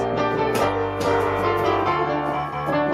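Piano played with both hands: a low bass line moves beneath a busier melody of repeated notes, loud and close.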